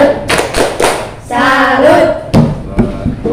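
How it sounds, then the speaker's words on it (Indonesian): A classroom group claps out the tepuk salut rhythm, a few quick sharp claps followed by a brief chanted voiced stretch and a final clap burst, close and lively. "kita kasih tepuk salut untuk kelompok terbaik"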